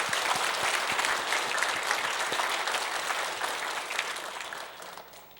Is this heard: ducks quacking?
no